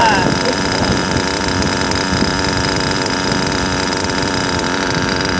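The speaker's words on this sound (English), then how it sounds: "If it wasn't for the Novarossi carburetor being on there, this thing wouldn't be idling like this." A modified LRP .32 RC nitro engine fitted with a Novarossi carburetor idles steadily and close by, a constant buzzing drone mixed with outdoor wind noise on the microphone.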